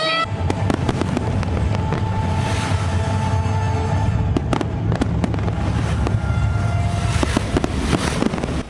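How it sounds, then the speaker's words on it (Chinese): A six-minute harbour-encircling fireworks display at Kaohsiung for the Lantern Festival bursts overhead in rapid, sharp booms and dense crackling, one explosion after another over a constant roar of crowd and ambience. "6分钟环港烟火在空中绽放"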